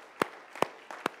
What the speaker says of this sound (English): Let's give the Lord a hand clap of praise again.